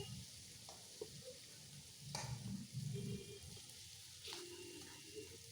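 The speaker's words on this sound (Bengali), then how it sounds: "এবার সমস্ত কিছু আমি একসঙ্গে ভেজে নেব।" Fenugreek greens with whole peeled garlic cloves frying in a pan, a steady sizzle with occasional stirring scrapes and clatters, fairly quiet and without talk.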